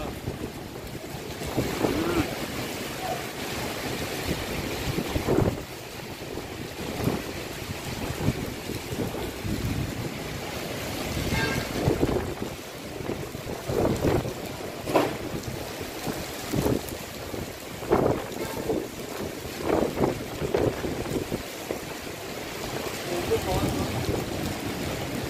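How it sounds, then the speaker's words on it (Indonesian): Heavy rain and strong wind lash South Jakarta in a storm that topples trees. A continuous noisy wash runs throughout, broken by repeated gusting surges. "Hujannya udah gede banget, anginnya kencang sekali."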